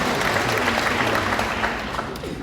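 A crowd at a Kenyan political gathering applauds an MP, dense loud clapping sustained throughout before easing slightly at the end.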